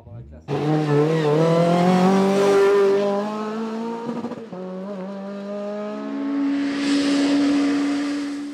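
A Renault Clio 3 Cup race car climbs a hill-climb course at Vuillafans–Echevannes, its engine loud and close, revving high through the gears with a sharp shift mid-way before pulling hard again.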